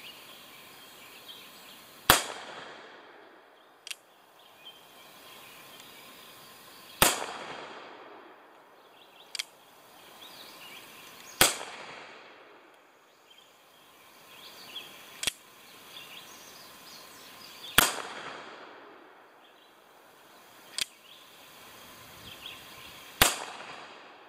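An Uberti 1873 revolver and rifle fire black powder loads, five loud sharp reports spaced several seconds apart, each trailing a short echoing decay outdoors, with fainter clicks between shots and no talk.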